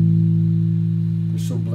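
A consonant note sustained on guitar rings steadily and clearly with rich harmonics, holding for nearly two seconds before a brief voice cuts in at the end.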